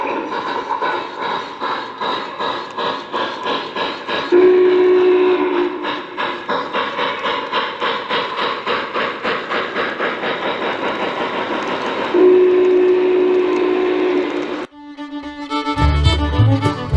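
A toy train set runs with a steady rhythmic clatter of wheels on track, and two whistle blasts sound partway through; the running sound cuts off near the end, giving way to other sounds.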